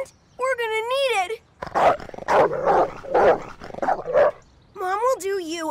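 Cartoon dog barking and yipping in a fast run of bursts in a magical animated comedy, framed by two stretches of high, melodic whining, loud and close with no talk over it.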